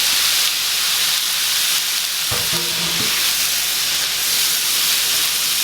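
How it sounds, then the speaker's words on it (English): Meat is stirred back into a sizzling cottage pie filling in a pan, with a continuous loud frying hiss and a brief scrape of the spoon partway through. "I'm going to add my meat right back in. Give that a little mix."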